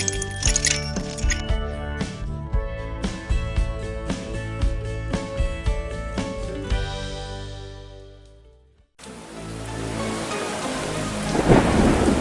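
Thunderstorm with rain on a dark, stormy night: after a stretch of music fades out, steady heavy rain pours in loudly with a low rumble swelling near the end.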